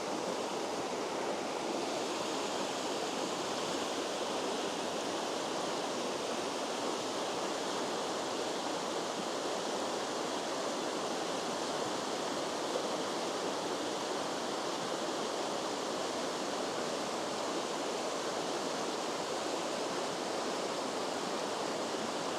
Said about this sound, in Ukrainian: вот там внизу річка